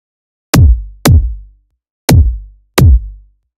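Four loud synthesized drum and bass kick drum hits, each with a sharp click attack and a boomy, sustained low tail, played alone with gaps between them.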